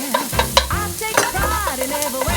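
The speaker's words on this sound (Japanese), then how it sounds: "そのまま火をまたつけてニンニク炒めます" Garlic stir-frying in a pan for a spicy vinegar-miso sauce, with a steady sizzle and repeated scraping and stirring strokes close up, no voices.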